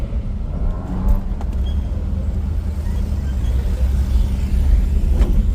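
A restored 1976 Chevy Nova police car's engine runs steadily, a low continuous rumble heard from inside the car with faint voices in the background.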